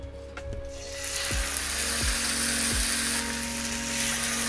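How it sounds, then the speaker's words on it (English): Tofu grills in a pan with a thin layer of oil, giving a loud, steady hissing sizzle that swells and holds, with a few low thumps and a faint hum underneath, and no talking. "Ooh, look at that sizzle."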